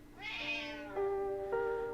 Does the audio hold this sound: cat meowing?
yes